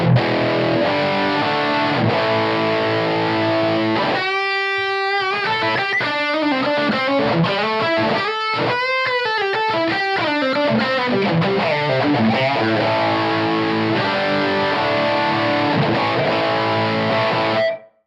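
Electric guitar through a Blackstar ID-X amp with overdrive on and tone turned up plays sustained chords and riffs continuously, with a gritty overdriven tone, loud and close, with no talking.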